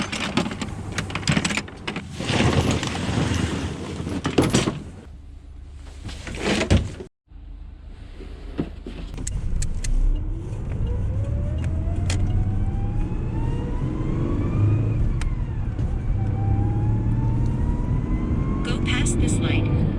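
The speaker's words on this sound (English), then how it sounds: "This is just a couple-minute drive across town." A car heading across town is heard from inside: door and rustling noises first, then a steady engine and road drone with a rising whine as it gets under way, with people talking at times.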